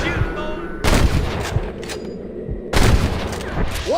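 Gunfire in Red Dead Redemption, two loud sharp shots about two seconds apart over a steady background of game ambience.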